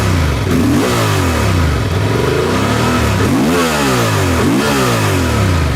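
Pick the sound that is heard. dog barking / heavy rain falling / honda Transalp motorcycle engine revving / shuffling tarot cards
honda Transalp motorcycle engine revving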